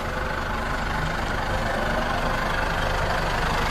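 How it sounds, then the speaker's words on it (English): A diesel International 885 XL tractor engine idles steadily up close, a loud, continuous low rumble with no talking over it. "It's an International 885 XL, Dave."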